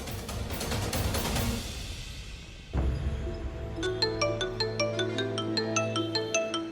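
A phone ringtone chimes in a repeating pattern of short bright tones on an outgoing call, taking over after a burst of dramatic music fades, the rings fairly close and steady with no talking.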